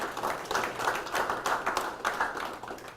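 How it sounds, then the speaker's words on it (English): A small group claps for a football offensive line coach at a fall sports media day, a close, uneven patter of hand claps that rises and falls without talk. "Let's give Coach Pond a round of applause."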